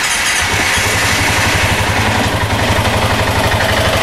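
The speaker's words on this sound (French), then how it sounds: "Alors je vais le démarrer si j'arrive." A Piaggio MP3 500 scooter engine catches and settles into a loud, steady idle with an even low throb, heard close and alone.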